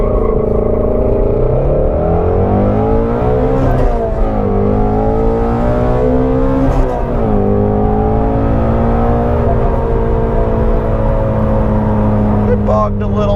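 A 2016 Ford Mustang Shelby GT350 with manual clutch holds steady revs at 4,500 RPM on launch control, then pulls away with rising engine pitch, loud and close throughout with no talk over it.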